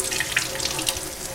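A sink faucet runs steadily while washed hands are rinsed under it, a continuous close hiss and splash of water with small splatter bursts and no talking.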